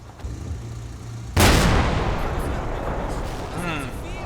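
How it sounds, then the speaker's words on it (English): A single loud, booming shot from a 75mm gun on a support half-track in the WWII tank game Combat Mission, bursting out sharply after low background rumble and rolling away in a long, heavy decay. "That was a support half-track with the 75mm gun."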